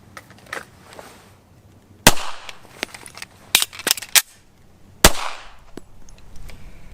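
Canik ONE series pistol fired at a paper target, several sharp close shots spaced irregularly, including a quick cluster of three, with quieter clicks and handling sounds between them.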